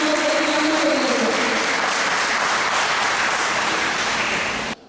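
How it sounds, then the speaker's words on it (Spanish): A church congregation applauds steadily, a dense wash of clapping from many hands that holds for several seconds and then stops abruptly. "Vamos a dar un aplauso a Dios."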